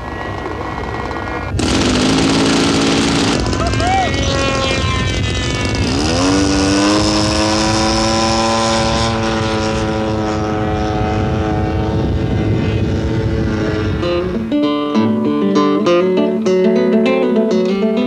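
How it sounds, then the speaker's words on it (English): A radio-controlled model plane engine whines loudly and steadily, its pitch sliding up as it speeds past, mixed with background music toward the end. "for would-be pilots who like to fly their own, there are even radio-controlled model planes"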